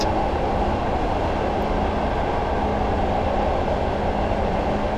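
Class 101 diesel multiple unit in Train Simulator 2015 on the Bishop Auckland to Wearhead route, running steadily at 45 mph on reduced power: a continuous, even engine and rail rumble with no talk.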